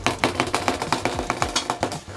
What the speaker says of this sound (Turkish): Bir de ekrana vuralım.